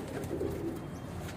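A pigeon gives a soft, low cooing call nearby over a faint background hum. The call is brief, lasting little more than a second.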